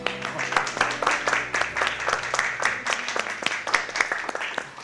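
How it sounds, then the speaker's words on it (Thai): An audience applauds in a Thai drama scene, many hands clapping in a steady, moderately loud stream over a faint, low tonal background. "ขอเสียงปรบมือให้คุณเกณฑ์ด้วยครับ"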